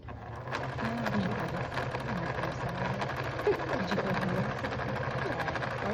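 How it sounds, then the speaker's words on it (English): A sewing machine stitches a feathered quilt leaf stem, its steady mechanical hum running continuously and close by with faint talk underneath. "So I will stitch this really quickly."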